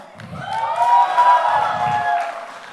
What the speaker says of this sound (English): I'm going to request a cheer for anybody who's ever worked at Madura